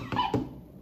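A toy dog that acts afraid of a bee gives two quick, close, high whimpering yelps in under a second.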